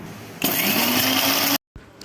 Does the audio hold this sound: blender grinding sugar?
yes